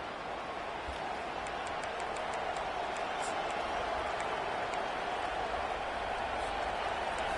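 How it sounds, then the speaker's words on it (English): Steady, dense roar of a packed stadium crowd at a college football game in the CFB 25 video game, Arizona on the road, sustained loudly throughout with faint higher cheers and whistles flickering on top. "This crowd, full throat, splitting the eardrums and letting them know it's going to be a long day."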